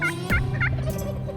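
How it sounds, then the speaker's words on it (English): Wild turkeys gobble in rapid rattling bursts, about three quick calls repeated at a distance over a steady outdoor background in cedar woods, with no talking. "we heard turkeys gobble"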